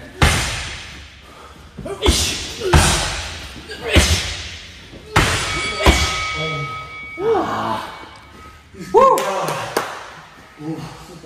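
Hard punches land on a heavy punching bag in a regular series of loud, near thuds, about one every second or so, with voices and panting in the gaps between strikes.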